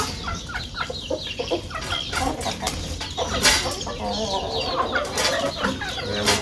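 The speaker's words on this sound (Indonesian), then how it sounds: "Ini ayam hutan nih." Junglefowl in a backyard enclosure cluck repeatedly in short, irregular bursts, close by, with scattered rustling and a few louder calls over the ongoing clucking.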